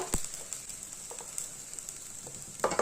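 Indrayani rice sautés in a pan over medium gas, a faint steady sizzle with a few sharp scrapes and clinks of a spoon against the pan, quiet and close.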